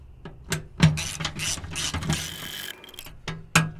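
A socket ratchet tightens the oil drain plug on a 2013 Ford Raptor with a 6.2L engine, giving sharp clicking pawl bursts in short irregular strokes, close and clear with no talking.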